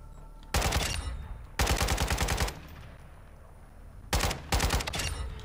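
Long-range gunshots in Call of Duty Modern Warfare 2, three separate bursts of rapid automatic fire, each lasting under a second, with quiet gaps between them and no talk.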